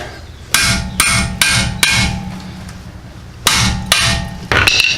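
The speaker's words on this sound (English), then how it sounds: "you're just gonna smack it. Just like that." A hammer smacking a stuck front brake part on a Hyundai Sonata, seven or eight loud, close metallic blows in an uneven rhythm, each ringing briefly before the next strike.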